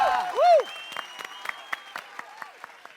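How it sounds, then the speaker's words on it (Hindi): An audience applauds Sodhi during a comedic poetry contest on a sitcom stage, a burst of sound that thins into sparse, separate claps, with a short rising-and-falling tone near the start. "लेकिन पहले आप लोग जरा सोढ़ी जी के लिए तालियां बजाएंगे।"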